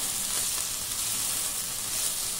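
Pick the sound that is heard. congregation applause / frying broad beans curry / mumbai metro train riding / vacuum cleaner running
frying broad beans curry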